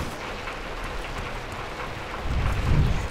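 Steady rain hiss with a low rumble of thunder swelling near the end, from the video game F.E.A.R. 3; the downpour is continuous and fairly loud, with no voices.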